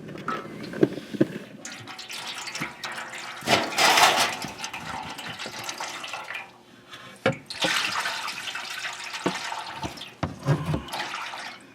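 Transmission fluid from a 2012 Toyota Camry pours and splashes into a catch container as the pan is lowered, in irregular gushes with drips and metallic clinks between them.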